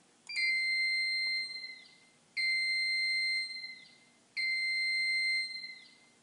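A bright electronic alarm tone from a 55-ton ironworker's CNC backgauge pulses three times, each beep lasting over a second with short gaps of quiet between.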